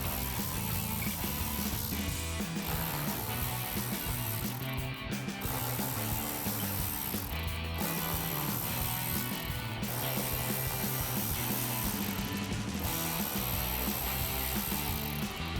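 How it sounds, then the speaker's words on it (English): A ratchet with a 7mm socket clicks steadily as bolts come out from under a 2014-2019 Corvette C7 before fitting an axle-back exhaust, a loud, close, continuous ratcheting with brief pauses and no talking. "we're gonna grab our ratchet and 7mm socket and take all those out."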